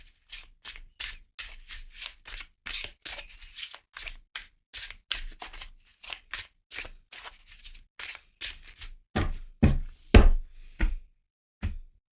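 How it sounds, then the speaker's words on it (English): Rapid rhythmic riffling and slapping of cards, repeated bursts about every half second, growing louder and sharper near the end. "need to shuffle the cards a little bit."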